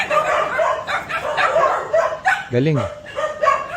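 A dog gives a brief yip or bark partway through, heard under nearly continuous conversation between people at a home where several pets are kept.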